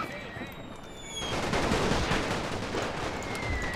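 Massed gunfire across a World War I battlefield in NTW: The Great War, a thick crackling rattle of rifles and machine guns swelling after a brief quieter start, held at a steady distance.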